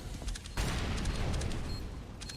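A flashbang goes off in Counter-Strike, a loud sharp burst after brief quieter game noise, followed by sustained crackling and rumbling with faint metallic pings.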